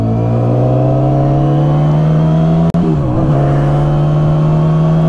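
Yamaha R6 sport motorcycle engine running loud and close, a strong steady drone that briefly cuts out, then pitches down and picks back up.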